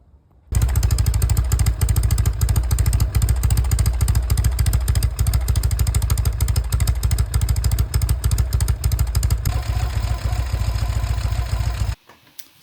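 Norton 850 Commando motorcycle engine, fitted with new carburetors, fires up and runs loud and close with a steady rhythmic thumping idle, then cuts off abruptly near the end.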